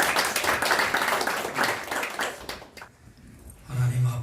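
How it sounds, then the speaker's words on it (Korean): A church forum congregation claps in thanks, a loud burst of many hands that fades out after a few seconds, followed by a voice speaking. "큰 박수 한번 감사의 박수 드리겠습니다"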